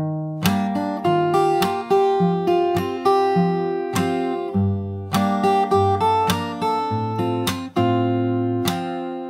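The third part of a song's chorus is played fingerstyle on a solo acoustic guitar, with plucked bass notes and melody in a steady rhythm, close and clear with no voices, over about nine seconds.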